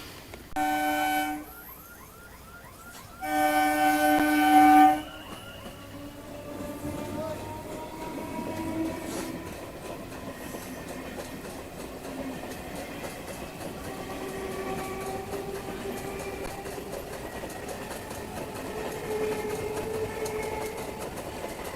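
A train rumbles past a level crossing with steady rolling rail clatter, preceded by two loud horn blasts near the start; the noise stays continuous and fairly close.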